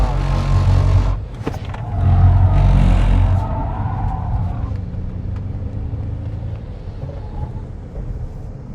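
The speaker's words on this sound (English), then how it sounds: "Let's go drift." A car drifting at an electric-vehicle expo in Phoenix: a loud, close roar of motor and tyre scrub swells twice in the first few seconds, then eases into a steady lower rumble as it settles.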